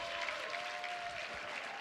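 A softball crowd at Rhodes Stadium applauds a strikeout in a Florida State versus Alabama game, dense steady clapping and cheering from many people, broad and sustained, with a faint whistle-like tone briefly over it.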